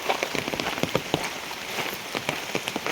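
Steady rain falls outside on a deserted road and open fields, a dense wash of patter with distinct drops striking a nearby surface, no voices over it.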